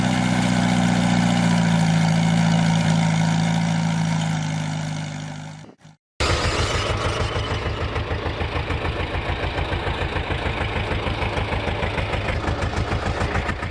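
A homemade tiller cultivator with an 8 horsepower engine runs with a steady drone, cuts out briefly, then restarts into a loud, rapid, even chugging that carries on to the end.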